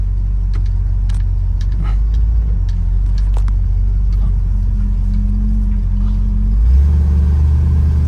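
A 1964 Ford Galaxie backs out and drives off, its engine giving a steady low rumble throughout, with a sustained tone in the middle and a louder surge in the final seconds as it pulls away.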